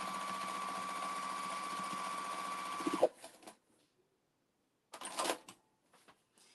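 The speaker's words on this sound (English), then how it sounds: "my machine sounds weird all of a sudden? I hope I'm not running out of bobbin thread, but it sounds weird." Sewing machine stitching slippery t-shirt material, running steadily and loudly for about three seconds with a whirring hum, then stopping; a few brief clicks and handling noises follow after a pause.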